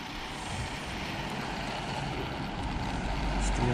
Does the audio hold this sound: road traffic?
yes